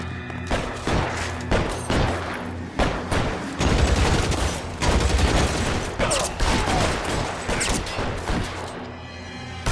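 Rapid gunfire rattles in a Los Angeles street shootout in L.A. Noire, with dense bursts of shots, sharp cracks and thuds that repeat loudly for several seconds, mixed with faint shouting.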